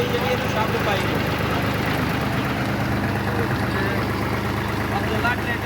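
A 2010 New Holland Fiat 480 tractor, 55 hp, runs steadily while driving a double pulley, a constant loud low engine drone throughout.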